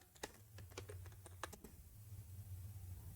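Fingers typing on a computer keyboard: a quick, irregular run of close clicks and taps for about a second and a half, then quiet with a low steady hum underneath.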